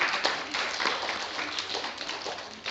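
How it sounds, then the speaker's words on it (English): Small audience at a children's storytime session in a Manchester library giving a brief round of applause, a light, scattered patter of hands that tapers off. "a round of applause"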